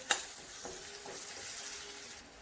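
Turmeric and homemade masala sauté in a pan over low heat, a faint, steady sizzle with a single sharp clink of a utensil near the start and light stirring scrapes.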